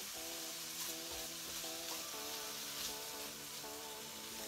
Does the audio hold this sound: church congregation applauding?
no